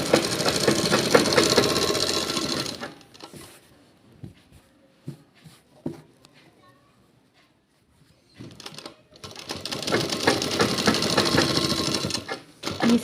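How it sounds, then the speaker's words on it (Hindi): A sewing machine stitches along the edge of a trouser pocket in loud, steady mechanical whirring bursts, stopping for a few seconds of quiet handling and small clicks before running again. "पॉकेट के किनारे से ऐसे सिलाई लगा लेनी है।"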